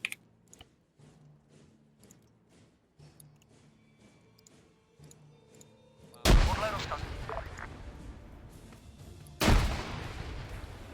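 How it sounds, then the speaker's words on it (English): Grenade explosions and gunfire ring out in a video game airbase raid, Arstotzkan paratroopers against Kolechian defenders: a string of light clicking shots, then two big blasts about three seconds apart, each followed by a long rumbling tail. "Grenades are being thrown."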